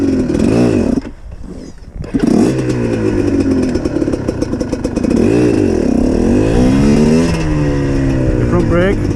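A GPX TSE 250R motorcycle ridden close up, its engine loud and steady with revs rising and falling through gear changes and a brief dip in throttle, wind rush over everything.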